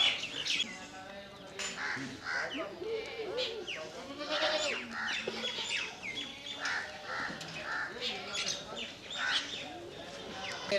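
Sirohi and Barbari goats bleat repeatedly in a farm pen, several overlapping calls close by, with birds cawing and people talking quietly underneath.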